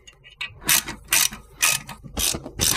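A ratchet clicks in five quick bursts while tightening the 7 mm hex brake bolts on a BMW E46 330Ci, close and loud, with short pauses between strokes.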